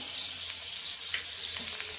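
Bangda (mackerel) sizzling and crackling in hot oil on a griddle over a high flame, a bright continuous frying hiss with small pops, close up.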